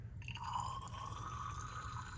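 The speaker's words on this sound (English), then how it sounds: "Then we need to clean our cuvette with distilled water." Distilled water squirts from a wash bottle into a spectrophotometer cuvette, a steady hissing trickle heard close and alone over a low hum.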